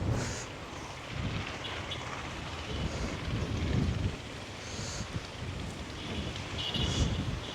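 Strong wind buffets the microphone at a fishing spot in rough, gusting waves, a loud roaring rush with no voices.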